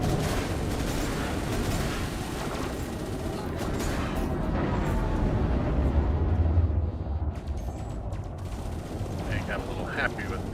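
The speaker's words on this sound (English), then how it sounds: "I got a little happy with the shot cannon there" Shot cannon blasts in the space combat game Elite Dangerous, dense bursts of rumbling gunfire and booms layered over a continuous low roar, loud and sustained, with a voice speaking at times.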